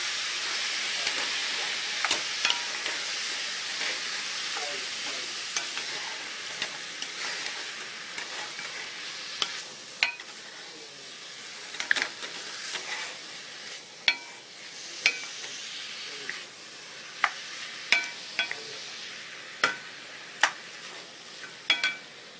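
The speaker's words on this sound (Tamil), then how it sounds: "ஸோ இப்போ நம்ம தக்காளி போட்டுடலாம்." Tomatoes sautéing in a hot pan for tomato sambar give a steady, close sizzle, punctuated every second or two by sharp spatula scrapes and taps against the pan, with no voices.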